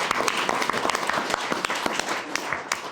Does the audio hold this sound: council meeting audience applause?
yes